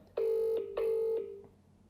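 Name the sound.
telephone ringing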